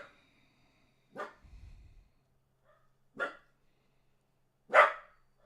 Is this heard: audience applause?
no